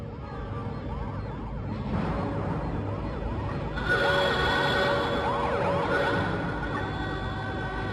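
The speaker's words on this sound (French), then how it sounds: "Attention, attention, alerte rouge déclenchée." A red alert alarm siren on a spacecraft in an animated series, wailing in repeated rising and falling sweeps, loud and continuous, with extra siren layers joining partway through, no talking.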